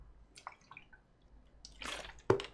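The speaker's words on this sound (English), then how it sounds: "I'm going to take a quick swig of water here because I forgot to" Someone takes a quick swig of water: faint liquid sloshing and small drips, then a soft gulp near the end, quiet and close in an otherwise silent room.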